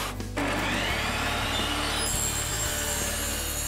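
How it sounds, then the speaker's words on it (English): Wooden boards for a window mirror frame are cut to final length with a power saw, a steady low motor drone with a continuous cutting rasp running the whole time, close and fairly loud. "Now we're going to go ahead and cut these to their final dimensions"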